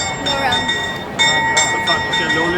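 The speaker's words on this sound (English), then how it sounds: "Things will come out and make like a bell noise like that." Bell chimes of the Prague astronomical clock striking the hour, a run of bright ringing tones repeating over a busy outdoor crowd, with people talking nearby.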